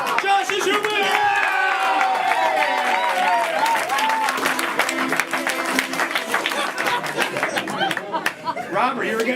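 A studio audience claps for the players of a game-show event, with cheering and chatter mixed into dense, steady applause that runs throughout, with voices talking over it.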